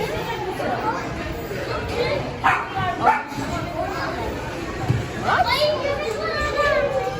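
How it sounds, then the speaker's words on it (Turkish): Dogs bark and yip a few times amid children playing and chattering nearby at a trampoline, the barks brief and mixed into the lively background. "Çocuk bak burada köpek."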